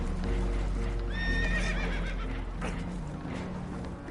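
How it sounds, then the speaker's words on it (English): Spooked horses whinny loudly in a PS4 video game, a shrill neigh rising over a steady rumbling game soundtrack, followed by clip-clop and scuffling. "Horses are spooked, and we're taking on water."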